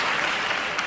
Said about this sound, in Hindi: एक बार जोरदार तालियां महेंद्र सर के लिए।